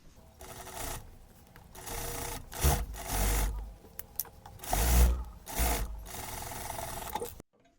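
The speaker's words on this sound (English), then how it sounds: "make sure you're sewing like 1/4 from the line that we marked. Don't forget to do the back stitch as well." A sewing machine stitches a dress sleeve a quarter inch from a marked line, including a back stitch, in several close, uneven bursts of buzzing run with pauses between, no talk over it.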